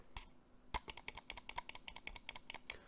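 Left button of a Valkyrie M1 Pro lightweight gaming mouse clicked repeatedly: one sharp click, a brief pause, then a quick steady run of about twenty crisp clicks, close and clear with no talking.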